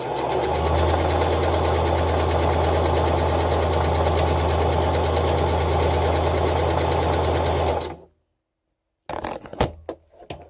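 A sewing machine stitches Jedi cosplay hood fabric in a steady, rapid, close mechanical rattle for about eight seconds, then stops, followed by a few soft handling clicks and rustles.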